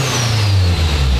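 An A3 race car engine revs steadily up close, a loud, continuous throaty drone that holds a low pitch and dips slightly near the end.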